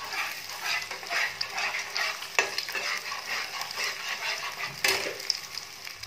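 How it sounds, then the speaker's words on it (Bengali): Two eggs being broken up and fried in hot oil into crumbly bits sizzle steadily up close, with repeated scraping stirs and clinks of a utensil against the pan. "এবারে ডিমটাকে ঝুড়ি ঝুড়ি করে ভুজিয়ার মতো করে ভেঙে ভেজে নিচ্ছে।"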